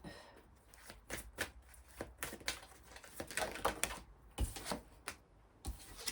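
Tarot-style cards being drawn and shuffled for a reading, a run of sharp papery riffles and snaps arriving in irregular bursts, close and fairly crisp, with no talking over them.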